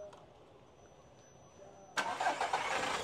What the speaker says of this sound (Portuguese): eu pedi para o amigo da partida aqui no motor, para vocês observarem aqui junto comigo como ele se comporta